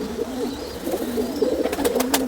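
Pigeons in Jammu and Kashmir coo in a low, rolling murmur, close and fairly loud, with a few brief sharper sounds near the end.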